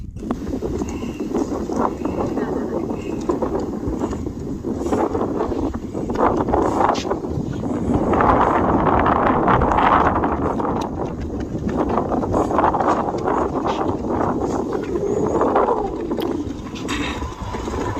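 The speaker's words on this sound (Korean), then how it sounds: "바람이 엄청 붑니다." Strong wind at Monument Valley, Arizona, buffeting the microphone in a continuous rough roar that surges and eases in gusts, with some low voices under it.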